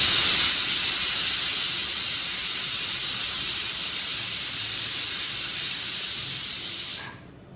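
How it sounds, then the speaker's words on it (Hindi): A pressure cooker of dal vents steam in a loud, steady hiss that runs unbroken for about seven seconds and then cuts off abruptly. "कुकर की 1 सीटी हो गई है और 2-3 सीटी बाकी है।"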